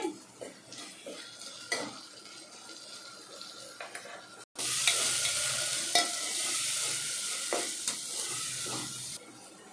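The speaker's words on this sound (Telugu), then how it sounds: "పచ్చి వాసన పోయిందంతా వేగాలండి." Ginger-garlic masala for chicken kurma fried in a pan, with spoon clinks and scrapes against the metal over a quiet sizzle, then a sudden louder burst of frying that keeps hissing steadily with occasional stirring knocks.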